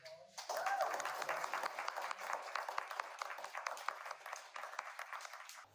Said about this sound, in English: give all the poets another round of applause